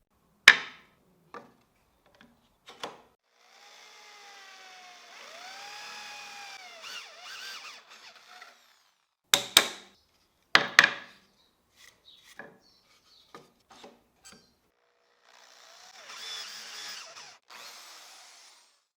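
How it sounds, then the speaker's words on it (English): A drill bores through wood with a 25mm Forstner bit in two sustained whining runs, broken by sharp knocks and clatter from handling the workpiece. The sound is close and clear, with no talking. "I'll drill from side to side using this 25mm Forstner bit"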